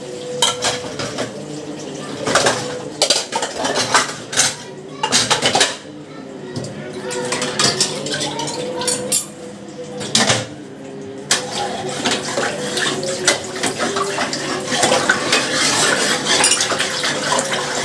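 Pots, dishes and cutlery being washed in water in a home sink, with repeated clinking and clattering of metal and crockery plus splashing, close by, alongside intermittent talking.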